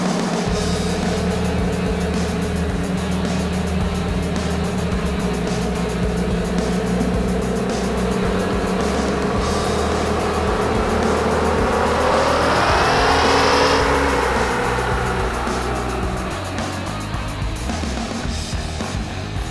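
A supercharged Toyota Tacoma 4.0L V6 on a dyno drones steadily, then climbs in a loud sweeping rev toward the limiter before dropping back, the engine roar continuous and close.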